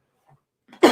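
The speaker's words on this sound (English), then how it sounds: "I've been coughing like this for many a moon" A single harsh cough from a man who has had a lingering cough, loud and close, bursting out after a moment of near silence and a faint breath.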